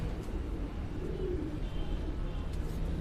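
Low, soft coos of Dub breed pigeons murmur steadily under a constant background hum, with faint bird chatter mixed in.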